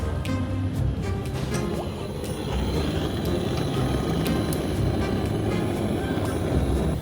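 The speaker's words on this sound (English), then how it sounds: "I'm going to get the heat gun and heat them up." Heat gun warming parts on a motorbike, running with a steady, loud broadband whoosh and scattered small ticks throughout.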